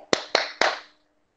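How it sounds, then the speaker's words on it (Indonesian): Children at a junior church worship service clap their hands three times in quick, evenly spaced, sharp claps, each ringing briefly before a pause, with a faint voice at the very end. "Tepuk tangan Yesus"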